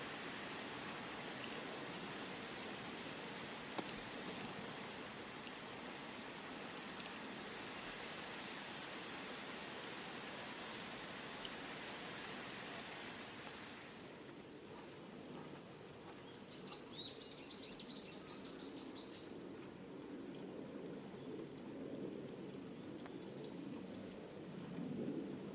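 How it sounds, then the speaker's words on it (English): Steady rain with low thunder rumbling during a women's golf tournament, a dense continuous wash of rainfall with faint bird chirps appearing in the latter half and no talking. "You can't suntan on a rainy day."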